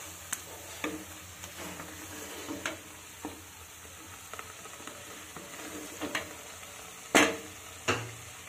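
Tomato poppy-seed paste fries softly in a pan over medium heat, a low sizzle broken by repeated scraping and tapping strokes of a spatula as it is stirred.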